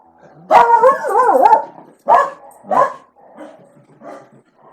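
Dogs indoors bark at a deer outside: a long, wavering howl-like bark, then several sharp, loud barks that grow quieter, close by with no talking.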